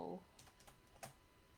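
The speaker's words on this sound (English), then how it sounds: "I'll type it in" Several light keystrokes tap on a computer keyboard, quiet and sparse after a brief voice at the start.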